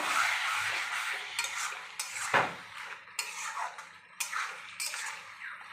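Chicken curry being stir-fried in a pan with splashes of hot water, giving bursts of hissing sizzle between scraping and clinking of a spoon against the pot, close and intermittent, with no talking.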